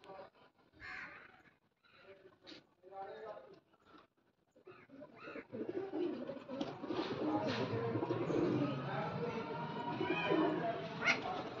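Pigeons call and flutter close by over a steady murmur of outdoor noise in rainy weather, with soft cooing and scattered chirps after a few brief quieter sounds.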